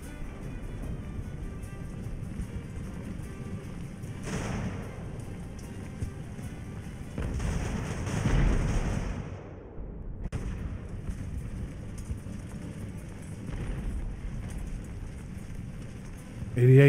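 Cannon fire from a British ship of the line in Ultimate Admiral: Age of Sail, heavy booms rolling at intervals over a constant rain-like battle hiss, with a voice talking in between.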